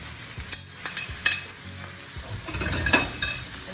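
Ground beef and garlic frying over medium heat in a pan: a crackling sizzle punctuated by sharp spatula clicks and scrapes as the meat is broken up, with the frying growing busier toward the end.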